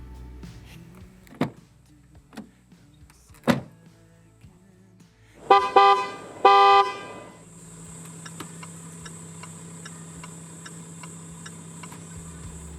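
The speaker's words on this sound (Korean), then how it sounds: "레인지로버 스포츠가 어떤 체감적인 소리를 들려주는지 들어볼까요?" A 2018 Land Rover Range Rover Sport SDV6 diesel gives scattered cabin clicks and thunks, a brief chime, then settles into a steady low engine hum with a faint high whine.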